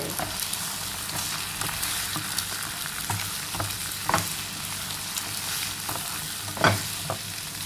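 Three eggs stir-fried in a pan for an okra and egg dish, a steady close sizzle broken by repeated scraping taps of a spatula, one louder clack near the end, no voices.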